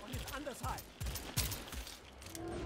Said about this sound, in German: Ich schieß da schon drauf wie so ein Vollidiot!